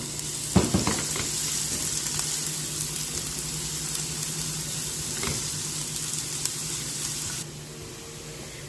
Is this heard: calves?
no